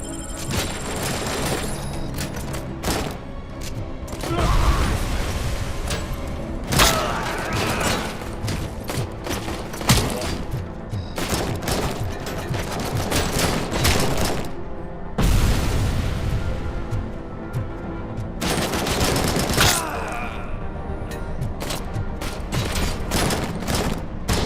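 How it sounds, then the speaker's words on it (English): Grenades go off in bursts amid rapid gunfire during a Robocop: Rogue City firefight, with dense, loud crackling volleys and deep booms recurring across the stretch and no talk over it. "Oh, grenades everywhere."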